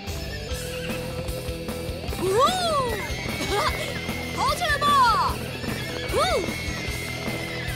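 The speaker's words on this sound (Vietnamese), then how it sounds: "cậu có thể khiến những con ngựa này bình tĩnh lại không? Chúng sợ hãi quá." Frightened horses in a Paw Patrol cartoon neigh and whinny loudly several times over galloping hoofbeats, while characters talk over the commotion.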